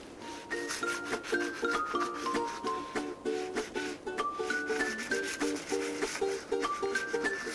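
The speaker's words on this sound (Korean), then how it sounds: "우리 다 함께 목탄 콜라주 기법을 이용해서 그림 그려보아요" Charcoal rubs and scratches across paper in steady strokes while a dog picture is drawn with a collage technique, close and fairly quiet, with light music playing underneath.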